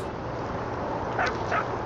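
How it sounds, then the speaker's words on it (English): Dog in the video game What Remains of Edith Finch gives two short yips or whimpers over steady game ambience, close and fairly quiet. "Hi, doggy."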